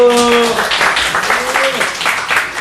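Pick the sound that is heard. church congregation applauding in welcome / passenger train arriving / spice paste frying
church congregation applauding in welcome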